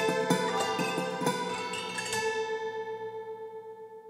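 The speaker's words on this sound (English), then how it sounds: "A hammered dulcimer recorded back in 2018." Rapid hammered dulcimer notes ring out in a quick cascade, then a final note sustains with a shimmering tremolo as it slowly fades.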